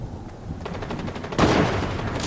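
Rapid gunfire from Fortnite crackles in a quick series of sharp shots, then swells into a denser, louder volley partway through, with no talking over it.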